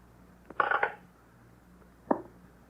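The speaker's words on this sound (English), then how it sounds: "We'll hang up the phone, please." An old telephone handset in an old-time radio drama clattering into its cradle, a brief rattling clunk followed by a second short knock after a pause, set against quiet background hum.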